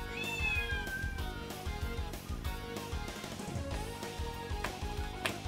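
Several cats meow indoors, with drawn-out, falling cries that overlap and repeat over a busy background, and no one speaks.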